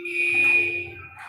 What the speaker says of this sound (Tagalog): Bakit may alarm?